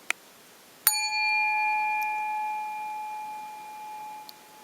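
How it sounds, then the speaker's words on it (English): A single bell is struck once, ringing out clearly and sustaining a long, slowly fading tone in a quiet room. "ring the bell."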